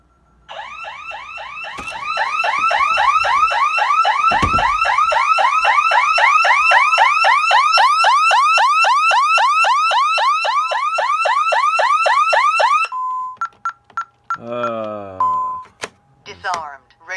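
Vista 10SE security panel alarm siren sounding during a test, a loud rapid warbling wail held steadily for about eleven seconds, then cutting to short beeps and chirps from the panel.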